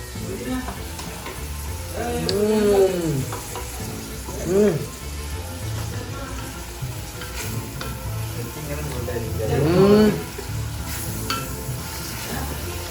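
Onions fry and are stirred in a pan with a steady sizzle, with a few brief voice-like sounds rising over the cooking at intervals.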